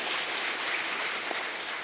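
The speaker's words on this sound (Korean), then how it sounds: "우리 하나님께 영광의 박수를 올려드리겠습니다." A church congregation applauds in praise during a Christmas-season worship service, a steady, dense wash of clapping that fills the whole clip at moderate level with no talking over it.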